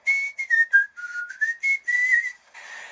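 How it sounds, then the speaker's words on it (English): A person whistles a bright, wavering tune in short separate notes, then holds longer tones near the end, clear and alone with no talk. "And whistle."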